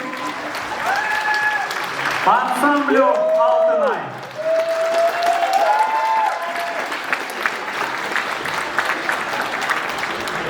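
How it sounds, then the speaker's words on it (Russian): Steady crowd applause for the Altynai ensemble at the Moscow Hylyuqayy 2019 pageant, filling the whole stretch while an announcer's voice rings out over it. "Ваши овации"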